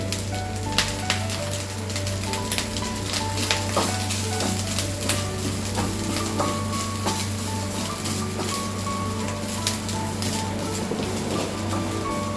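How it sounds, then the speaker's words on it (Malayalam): Grated coconut frying in a pan with urad dal, dried red chillies and curry leaves, a steady close sizzle with occasional stirring clinks throughout, no voices. "തേങ്ങ ഒന്ന് ചെറിയ ബ്രൗൺ ആവണ വരെ ഒന്ന് വറക്കണം."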